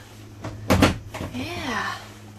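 The small shower door inside a campervan is opened or closed with a short knock and rattle, followed by a faint voice.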